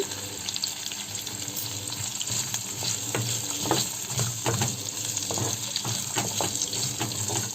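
Steady sizzling of poppy seeds frying in a hot pan, with occasional scraping and stirring clicks, continuous and close.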